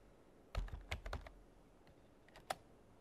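Computer keyboard typing: a quick close run of about half a dozen clicking keystrokes, a pause, then one last sharp key press, over a quiet room.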